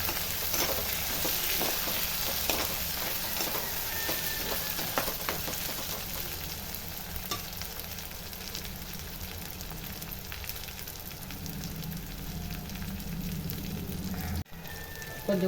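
Chopped tomatoes sauté with garlic and onion in a pan, giving a steady, close sizzle with occasional stirring scrapes throughout, alone without any talk.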